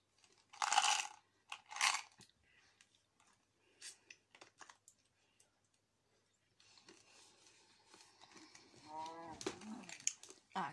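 A cow in the video game Minecraft gives a short low moo near the end, after a few sharp bursts and scattered keyboard clicks, all fairly quiet.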